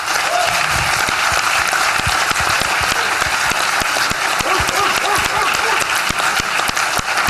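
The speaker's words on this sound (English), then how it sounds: "we really need to give them a round of applause" A room full of people at a legislative breakfast on mental health applauds the lawmakers, with dense, steady clapping throughout and a few sharper individual claps standing out.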